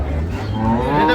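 A dairy cow moos loudly and close at a busy cattle market at Ambari in Dinajpur, one long low call filling the moment.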